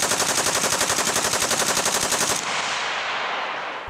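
An AK-12 Kalashnikov prototype fires a rapid, sustained automatic burst, loud and close, with shots in a tight regular rhythm for over two seconds before ringing off into echo.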